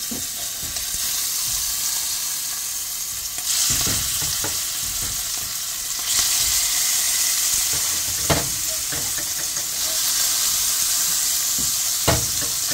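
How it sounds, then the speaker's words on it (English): Shrimp frying in hot olive oil for fried rice, a loud continuous sizzle with periodic stirring clacks and surges as the pan is worked, close up and free of talk. "I put some more olive oil in, and once it's hot, I'm going to put my shrimp in"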